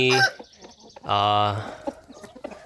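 A young Burmese gamecock gives a couple of loud, nasal clucks and squawks up close, separated by a brief pause, with faint rustling between them.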